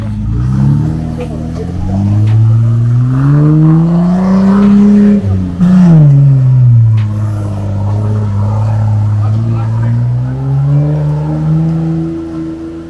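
An off-road vehicle on a muddy forest track engine strains as it climbs a slope, revs rising and falling over a steady loud growl, close up with people talking over it.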